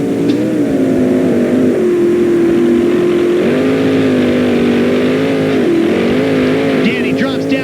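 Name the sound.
sprint race cars starting race, on-board Danny's car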